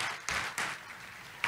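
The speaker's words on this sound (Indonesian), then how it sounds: "Tepuk tangan dulu dong buat Tuhan Yesus" A church congregation claps briefly for Jesus, a soft spread of applause with a few sharper bursts, fairly quiet and distant.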